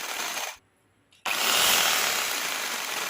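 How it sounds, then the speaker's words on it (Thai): An electric drill fitted with a jigsaw attachment runs with a harsh, steady buzzing rasp, cuts out for about half a second, then starts again and keeps running loudly. "ชุดเลื่อยฉลุ ใช้ร่วมกับสว่านไฟฟ้าในราคาไม่ถึงหนึ่งร้อยบาท"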